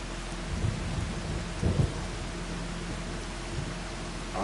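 Rain and thunder in the Farming Simulator 25 video game on PS5: a steady hiss of rainfall with low rumbling thunder rolls swelling briefly, no talk over it.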